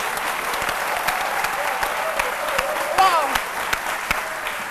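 Rock-style audience applause fills a concert hall, a dense steady wash of clapping at moderate loudness with a brief whistle partway through.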